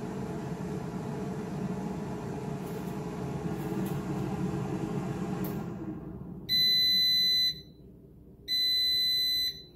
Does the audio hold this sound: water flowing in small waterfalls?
no